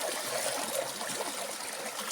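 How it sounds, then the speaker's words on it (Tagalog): Stream water flowing at Tugunan Falls, a steady close bubbling and trickling rush that fills the whole short stretch without any voices. "Dito kami sa Tugunan Falls."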